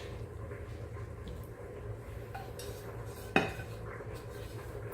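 A spoon scrapes and stirs squash and shredded cheese together in a bowl for a casserole, soft steady mixing with a single sharp clink of utensil against the dish partway through.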